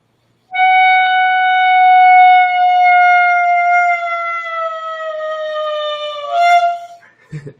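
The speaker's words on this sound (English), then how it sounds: "we're trying to just drop the pitch as low as we can by moving that voicing down" A single sustained wind instrument tone slowly sliding downward in pitch, ending with a brief squeak and cutoff.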